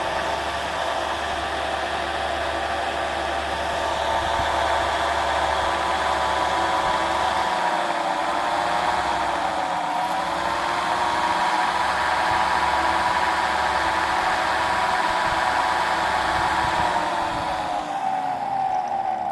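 A 95 volt DC generator driving a 3 phase 24 volt AC generator, a loud steady machine whine and hum running continuously, with a slight pitch dip midway and a low rumble that drops out partway through.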